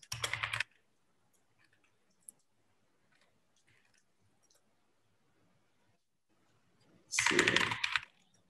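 A burst of fast typing on a computer keyboard, a dense flurry of clicking keystrokes at the start and again near the end, with near-silence between.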